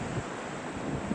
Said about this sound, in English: You can see the end of the steel pier and the waves crashing